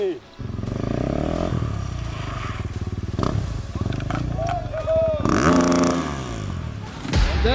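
A KTM 790 Duke and a Kawasaki Ninja ZX-6R rev and roar as they drift around kicking a ball, with engine pitch sweeping up and down through bursts of throttle and voices shouting over the noise.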